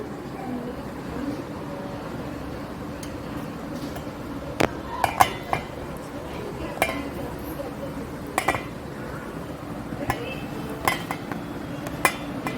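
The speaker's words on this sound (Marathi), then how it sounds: "आता आपण इंग्रेडियंट्स टाकायला सुरू करू अजून पहिला आपण टाकू टोमॅटो" Chopped tomato tipped into a pan of moistened poha, giving scattered clinks and taps of a utensil against the cookware over a steady low kitchen hum, with no talking.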